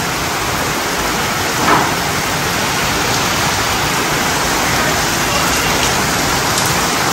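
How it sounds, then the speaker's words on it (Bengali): Rain falling on a tin roof makes a steady, dense hiss of drops at even strength throughout, with one faint brief tap near the start, and no voices. "আর টিনের চালে বৃষ্টির শব্দটা খুবই ভালো লাগে।"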